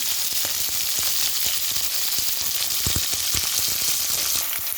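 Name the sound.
green chilies frying in a pan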